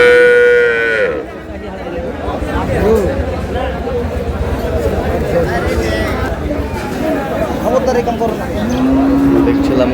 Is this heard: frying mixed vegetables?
no